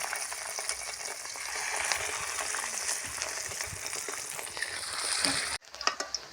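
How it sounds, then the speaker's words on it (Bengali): Fish roe fritters frying in hot white oil in a wok give a dense, steady sizzle close up that runs continuously and then cuts off abruptly, followed by a few lighter crackles. "এবার আমি এগুলোকে তেলে ভাজবো বড়ার আকারে"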